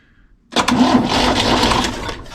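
The 1960 Panhard PL17's engine is cranked during a start attempt. After a near-silent half second, a loud, close rough churning begins and holds steady with faint pulsing.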